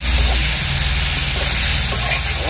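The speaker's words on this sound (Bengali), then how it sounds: "এখন আমি পেঁয়াজ গুলো তেলে দিয়ে দেবো" Onions dropped into very hot oil in a kadai give a loud, continuous close sizzle and spitting hiss, steady from start to end with no voices.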